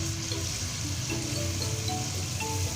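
Corn fritters (bakwan jagung) fry in hot oil in a pan, giving a steady, dense crackling sizzle that holds evenly throughout with no voices.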